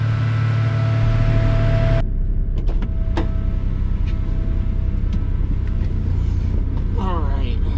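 A Toyota Celica engine idles and revs in a garage, a steady low engine drone with a brief sharper burst near the start, then settling into a rumbling idle with light clicks and noises.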